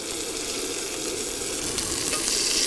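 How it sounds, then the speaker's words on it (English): Steady, close sizzling of smashed potatoes frying in ghee in a cast iron pan outdoors, a continuous crackling hiss with a few brief brighter spatters toward the end. "I could add a little bit more ghee into my frying pan."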